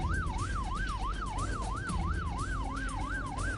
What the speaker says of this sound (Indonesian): Polisi yang tiba-tiba datang disertai bunyi sirine membuat para remaja ini kocar-kacir melarikan diri.